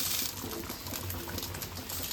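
Fish curry simmers in a pot, a soft continuous bubbling and low liquid churn heard close and faint, with no voices.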